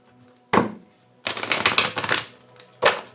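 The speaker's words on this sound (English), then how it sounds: "Now I'm going to shuffle." Tarot cards are shuffled close by, with quick papery riffles and slaps in separate bursts: a short one, a longer rapid flurry, then one more short burst.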